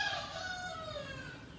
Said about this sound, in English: Of course, you're going to get some roosters in this video.